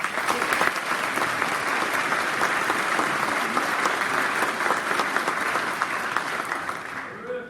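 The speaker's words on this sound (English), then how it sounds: "another round of applause for the Color Guard and the Brass Quintet" Sustained audience applause at a Camp Lejeune dinner honoring a Color Guard and Brass Quintet: dense, steady clapping from a large room that holds for several seconds and tapers off at the end.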